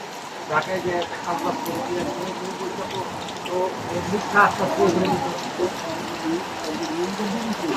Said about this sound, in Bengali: অসময়ে বৃষ্টি হচ্ছে